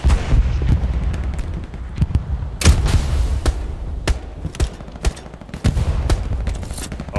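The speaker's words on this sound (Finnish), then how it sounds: "Täältä kuuluu laukauksia kauempaa." Distant gunfire in the Hell Let Loose war game: scattered single shots and short bursts crack out at irregular intervals over a low rumbling battlefield bed, sounding far off rather than close.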